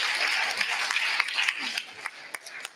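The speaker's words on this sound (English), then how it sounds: "give her a round of applause." An audience at a live marketing seminar breaks into sustained applause, a dense wash of clapping that carries on steadily and thins slightly toward the end, with a few sharper individual claps standing out near the close.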